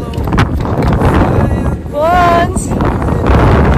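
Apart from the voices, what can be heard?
wind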